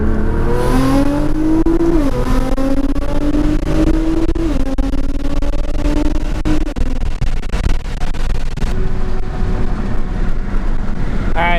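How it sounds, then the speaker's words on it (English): A modded Nissan GT-R with roughly 650 horsepower accelerates hard onto a freeway, its engine loudly revving up through several gear changes with rising, dropping pitch, heard close from inside the car. "So let's launch the car one more time, get a G reading"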